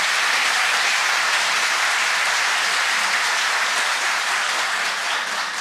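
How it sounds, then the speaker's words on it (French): At a formal political speech, an audience gives a sustained round of applause for the Vice-President, a loud, dense, unbroken roar of clapping from a large crowd, heard alone without speech. "Second bon applaudissement pour Madame la Vice-Présidente."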